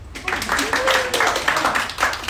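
Applause from an audience at a business partners' luncheon, a steady broadband wash of clapping that fills the short moment, with a voice briefly audible over it.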